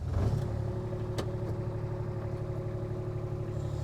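Kubota RTV-X2 utility vehicle engine running at a steady, close idle after starting, a continuous low hum with a brief click partway through, heard alone.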